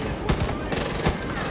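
Automatic gunfire in the shooter game Far Cry 5 rattles out in short, sharp bursts, loud and close, with a player talking over the shots.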